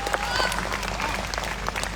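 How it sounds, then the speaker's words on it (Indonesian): A crowd at an Islamic lecture gathering claps briefly for a child, a bright, busy patter of many hands over a low hum, with faint voices mixed in. "Tepuk tangan dulu dong."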